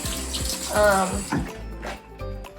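Water splashes and trickles in short bursts as rinse water is drained off chicken thighs into a sink, close by and moderately loud.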